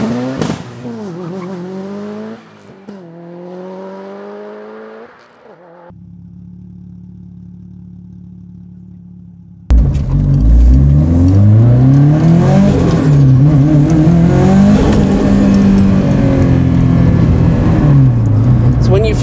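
A Type R performance car with a new engine accelerates hard on the road, its loud engine climbing through repeated rising pulls after a quieter stretch at the start where people talk.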